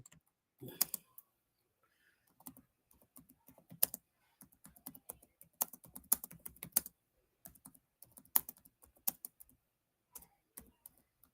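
Computer keyboard typing in bursts of quick clicking keystrokes with short pauses between, close and fairly clear, no talking.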